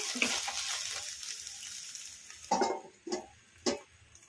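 Brinjal pieces boil in a covered pan with a soft, steady bubbling hiss, broken by several louder clattering bursts toward the end, heard close with no voices.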